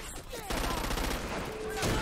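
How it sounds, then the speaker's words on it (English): Rapid gunfire from the video game Crackdown 2, a dense burst of shots that starts suddenly and keeps going through the clip, fairly close, with game sounds mixed in. "Stop shooting me."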